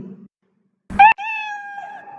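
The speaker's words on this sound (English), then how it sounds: "so when I am using say hello for 2 seconds with play sound meow, so it will produce the sound meow along with hello" A cartoon-style cat meow sound effect plays once, clear and tonal with a long falling tail, after a short low blip and a moment of silence.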